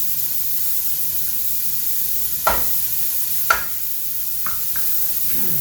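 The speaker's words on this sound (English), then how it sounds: "So I'm sauteing the veggies in a little olive oil." Onion and peppers sauteing in a little olive oil for a chicken chili chowder, a steady soft sizzle running throughout, with a couple of brief utensil clacks partway through and no talking.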